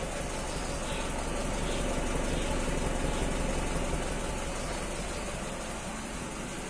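Petrol engine of a Mitsubishi L300 van idling smoothly, a steady close-up rumble with even low hum and no revving, alone without talk.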